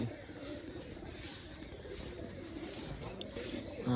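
Pigeons in a village household coo softly and repeatedly under a steady rustling background, with a person talking nearby.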